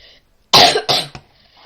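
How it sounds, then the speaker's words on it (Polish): Two or three sharp, loud coughs from a sick person indoors, close to the microphone, separated by brief pauses and followed by quiet room tone. "Nagrywanie też będzie yy, chore, bo będzie słychać kaszel"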